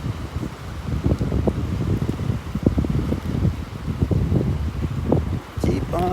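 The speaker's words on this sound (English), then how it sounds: "It's more of a breeze. More of a breeze than a wind." A gentle breeze on a beach at Delnor-Wiggins, a steady soft broadband rush of air and microphone buffeting that continues throughout, with low rustling and brief faint bits of sound mixed in.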